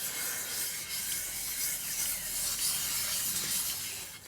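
A Bridgeport milling machine cutter hisses in a smooth, steady high-pitched whir as it skims across a metal cylinder head, continuous and even without grating.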